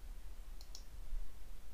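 Two quick, crisp mouse clicks in close succession, small and near over a low steady hum, with no talking.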